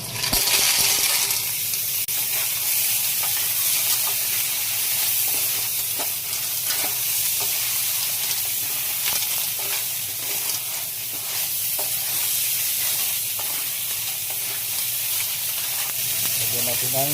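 Clams and garlic sizzle and crackle steadily in a hot frying pan, a dense continuous frying hiss with occasional stirring clinks, fairly loud and close with no talking.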